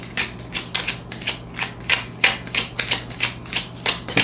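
Tarot cards are handled and shuffled in a quick series of crisp, papery flicks and slaps. The sound is close and fairly loud, in an irregular rhythm, with no speech.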